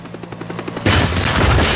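A helicopter in the voxel game Teardown opens fire, a rapid rhythmic burst of gunshots giving way to a loud dense roar of explosions and debris, with no talking.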